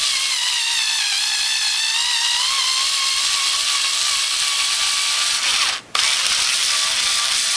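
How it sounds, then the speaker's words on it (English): Threading an 8-32 screw hole in sheet metal on a Norwalk juicer base plate with a custom reach tool, a steady continuous grinding whir with a brief dropout near the end, no talk. "And we'll tap a thread for an 832 screw."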